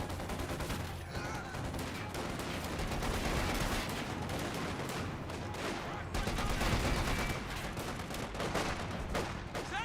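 Volksgrenadier infantry in Company of Heroes 2 blaze away with a continuous crackle of rifle and machine-gun fire, dense overlapping bursts that fill the whole stretch with no pause.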